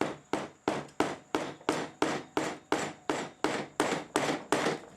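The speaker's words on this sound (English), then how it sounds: "take a hammer and then tap it down into the" A hammer taps a seal tool down onto a gasket in the plate of a Nissan 240SX KA24DE engine short block, in a steady run of about fourteen sharp, evenly spaced blows, close and loud.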